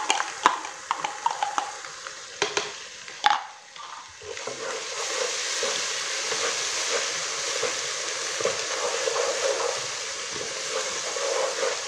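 Ginger, garlic and green chili paste frying with vegetables for a mixed vegetable pulao: a few sharp clinks of a spoon against the pan, then a steady close sizzle that swells and holds.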